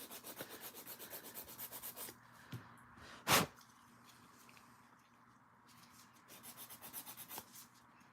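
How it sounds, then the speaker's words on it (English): A nail file scrapes back and forth across dip powder nails in rapid close strokes, pausing briefly for a single louder rub before the quick rhythmic filing resumes, with no voices. "I'm definitely filing more tonight than I have in a long time with just dip liquids."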